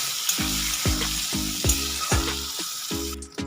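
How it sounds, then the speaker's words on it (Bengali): Eggplant pieces coated with turmeric fry in hot oil until browned, a steady close sizzle broken by regular stirring scrapes that come in a repeating rhythm about every half second. "দিয়ে একবার বেগুনটাকে কিন্তু লাল করে ভেজে নিচ্ছি"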